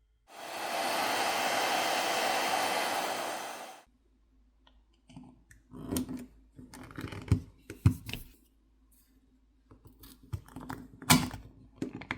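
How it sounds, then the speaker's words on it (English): A hair dryer blows steadily for about four seconds, heating a Google Pixel phone's backplate, then cuts off, followed by scattered clicks and light tapping sounds. "heat needs to be applied to the backplate using either a hairdryer or a heat gun"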